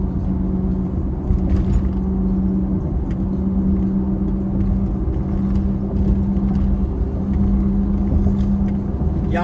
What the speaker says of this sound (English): It's a lot of bumping around in it.